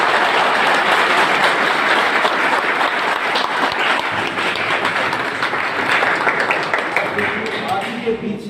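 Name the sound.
audience applause for the lecturer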